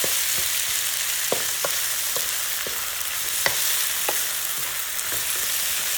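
Pork and holy basil stir-fried in a hot pan, a loud continuous sizzle with scattered scraping knocks of a utensil against the pan, with no talking.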